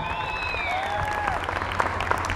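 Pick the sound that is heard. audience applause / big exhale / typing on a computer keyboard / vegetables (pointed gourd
audience applause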